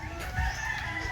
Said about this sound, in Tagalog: Mayroon din silang manok dito na panabong oh.